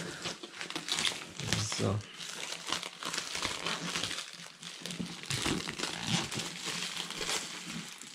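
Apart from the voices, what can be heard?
removing stiff plastic shrink wrap foil from a board game box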